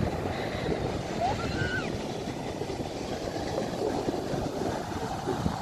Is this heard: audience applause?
no